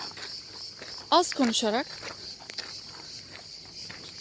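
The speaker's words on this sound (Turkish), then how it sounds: "Ağustos böceği, cırcır böceği" A steady high buzz of cicadas and crickets fills a coastal pine forest beside the sea, running under a person's speech and a few footsteps on a walking trail.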